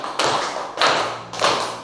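A class of pupils claps together during a counting clapping game: three sharp, close group claps spaced roughly half a second apart, each ringing briefly, with no talking.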